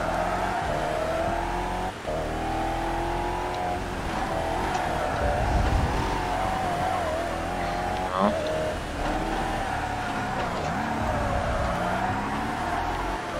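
Race car engine in Toca Race Driver 3, a steady loud revving drone with shifting pitch as the car spins doughnuts and slides on its rear wheels, a brief squeal-like burst midway, with a voice talking over it.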